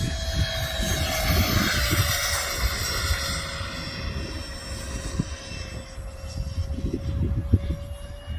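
A Hobbyking D.H. Vampire electric ducted-fan RC jet flies past, its loud whining fan tone sliding slowly in pitch over a rushing roar, then fading as throttle is reduced, with gusty wind noise.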